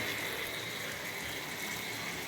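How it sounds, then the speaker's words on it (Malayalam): Hot water being poured into a pot of chicken curry, a steady, close rushing gush that runs unbroken from start to finish, moderately loud, with no speech. "ചൂട് വെള്ളം ഒഴിച്ചു കൊടുക്കാം അത് നന്നായിട്ട് തിളച്ച് വേവട്ടെ"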